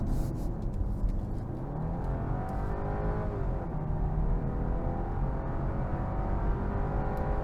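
Steady, loud engine roar inside a 2024 BMW 5 Series with an inline six accelerating hard, a continuous low drone with rising tone and no talk over it.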